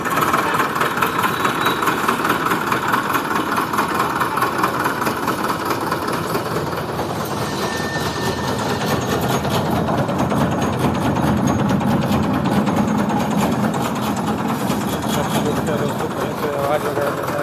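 Purvanchal DI50 tractor engine running steadily to power a mini rice mill, a dense continuous mechanical roar and rattle at constant level throughout, with a voice speaking over it.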